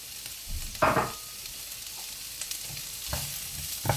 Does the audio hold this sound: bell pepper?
yes